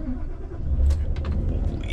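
A Scania 650S V8 truck engine starts up from inside the cab, a deep low rumble settling into a steady idle, with a brief voice heard faintly over it.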